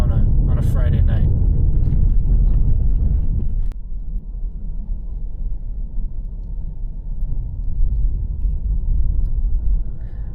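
Road traffic on a Friday night in Puerto Rico, heard as a continuous low rumble of cars from inside a moving vehicle, loud and steady throughout, with people talking over it early on.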